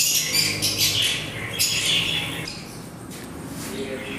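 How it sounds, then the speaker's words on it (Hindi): Lotan fancy pigeons at a bird market in Multan, Pakistan, squawking and chirping in a busy mix of bird calls, fairly close, with other birds audible in the background. "ये लते कबूतर हैं"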